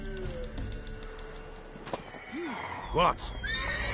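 A horse in the video game The Witcher 3 whinnies in a short, loud burst near the end, over soft ambient game sound, with brief speech from a character earlier.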